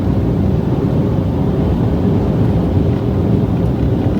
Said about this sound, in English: So it's all very windy